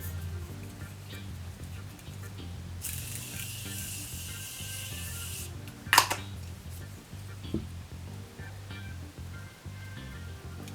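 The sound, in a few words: setting mist spray being sprayed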